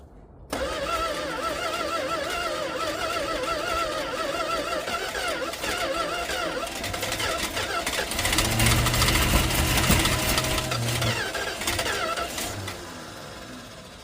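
A 1971 Dodge Charger V8 that has sat abandoned since 1995 cranks with a starter for over ten seconds, churning rhythmically and loudly up close. It grows heavier partway through but does not catch, then fades.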